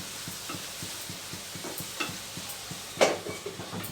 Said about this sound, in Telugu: ఇక్కడ టమాటాలు ఉడుకుతున్నాయి టమాటాలు మధ్య మధ్య చెక్ చేస్తూ కలుపుతూ ఉండాలి